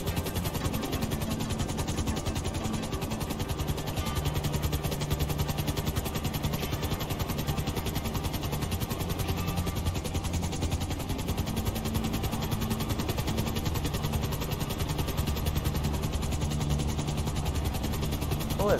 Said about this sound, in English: I don't know how to fly a heli anymore.